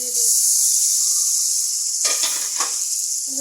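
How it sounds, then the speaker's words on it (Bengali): Fish curry of pangas with potato and drumstick cooking in a pan, loud close hissing sizzle throughout with bursts of crackling as water hits the hot oil. "পানি দিয়ে দিই।"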